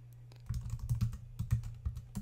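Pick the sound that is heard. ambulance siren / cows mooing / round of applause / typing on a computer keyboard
typing on a computer keyboard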